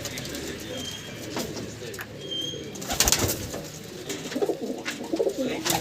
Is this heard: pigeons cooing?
yes